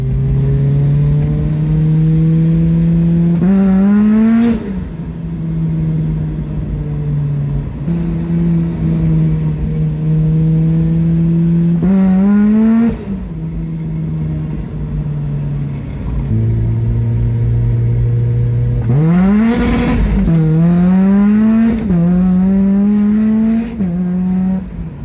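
A car with a Rotrex centrifugal supercharger accelerates loudly in repeated pulls, its engine note climbing and then bouncing off the rev limiter, with sharp surges and drops between runs.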